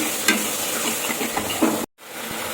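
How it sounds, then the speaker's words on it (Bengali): Turmeric and red chilli powder being sautéed in hot oil with a splash of spice-bowl rinse water for a tangra fish curry with cauliflower and potato: a dense, close sizzle with stirring scrapes, briefly cut off and resuming. "হলুদ দিলাম আর একটু লাল লঙ্কা গুঁড়ো দিলাম মশলার বাটি ধোয়া জলটা দিলাম তারপর একটু কষিয়ে নিচ্ছি"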